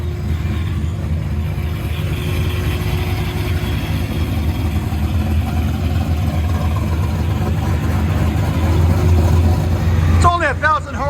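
A 1,000-horsepower procharged Corvette engine with long tube headers rumbles loud and close at idle, a heavy continuous low drone, with a voice briefly heard at the end.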